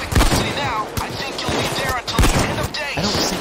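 Rapid gunfire from the Payday 2 video game, with loud bursts of shots and sharp cracks close by. Talk runs underneath the shooting.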